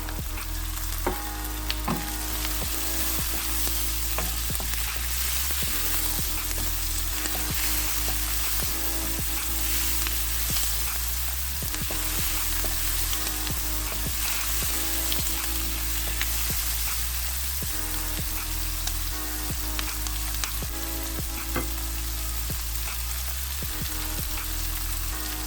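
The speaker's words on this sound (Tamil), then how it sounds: "வெங்காயம் கொஞ்சம் வதங்கட்டும்" Onions, then tomatoes, fry steadily in oil in a pan for prawn coconut milk curry, a loud, dense, continuous sizzle with occasional spoon clicks from stirring, close up and without talk.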